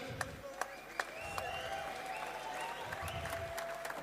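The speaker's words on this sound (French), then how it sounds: "Applaudissez à Red" Spectators at a boxing event applaud in a steady, distant wash of clapping with a few sharper individual claps standing out, while voices and a faint whistle-like tone carry on over it.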